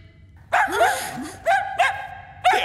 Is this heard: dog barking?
yes